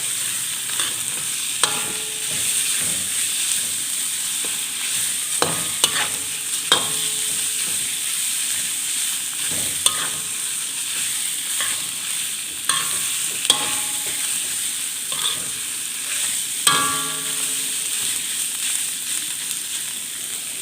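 Pork belly stir-fried with curry paste in hot oil in a pan, a steady bright sizzle with repeated scraping clacks of the spatula stirring at irregular intervals, close and loud with no talk.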